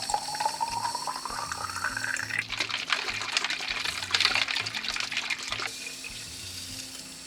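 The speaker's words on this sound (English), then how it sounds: "mix it to 5 liter of water and pour it into your machine" Nutrient water poured into a LetPot hydroponics machine, a close splashing, trickling stream whose pitch climbs as the reservoir fills, then a louder gush before it tapers off.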